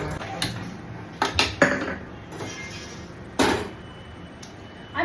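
A metal pan being rinsed and filled with water in a home kitchen, with scattered clanks and knocks against the sink and short splashy bursts, close and fairly loud with no talk.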